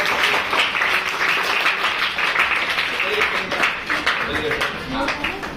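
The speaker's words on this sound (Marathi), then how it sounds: "जोरदार टाळ्या वाजवा प्रतीक्षा." Group applause for an eighth-grade schoolgirl's science poster painting of the lungs, a dense, steady patter of many hands clapping close by for several seconds, with voices mixed into the crowd noise.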